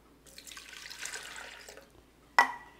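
Almond milk pouring into a blender container, a soft, steady liquid trickle lasting over a second, followed by a sharp knock of the container, close and quiet, with no talk.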